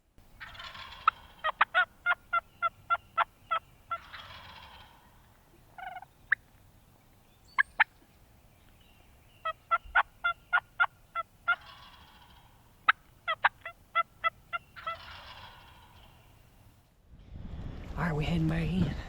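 Wild turkey gobblers gobble repeatedly in rapid rattling bursts, several calls spread across the stretch at moderate distance in open woods, with a brief rustle or wind noise at the end.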